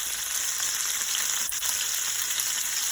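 Red snapper fries on a stove top in a pot that is not non-stick, a steady close hiss of hot oil sizzling throughout, with a faint clink midway and no talk.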